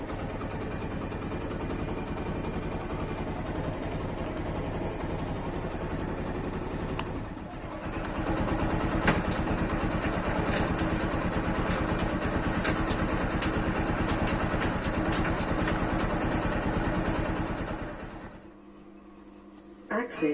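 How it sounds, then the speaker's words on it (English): A fingerprint-start smart motorcycle engine idles steadily, then revs up into a louder, rougher running note around the middle and holds it before cutting off near the end, with a synthetic voice prompt heard at close range. "Starting the engine."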